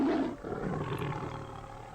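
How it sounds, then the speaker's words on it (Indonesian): A tiger gives one loud, close, deep roar that rumbles and fades over about two seconds, with nothing else heard. "terdengar suara auman harimau yang sangat keras hingga terasa menggetarkan bumi"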